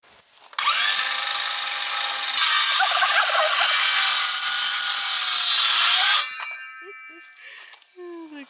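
Power drill boring holes through the wooden ribs of an off-grid greenhouse frame, one long loud steady whine close by that rises in pitch partway through, then stops, followed by faint clanks and a brief turkey-like gobble.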